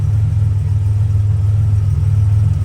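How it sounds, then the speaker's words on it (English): A turbo Buick Grand National engine, with fuel in its oil, idles steadily with a low, constant rumble, close and loud throughout, no voices. "Engine sounds good."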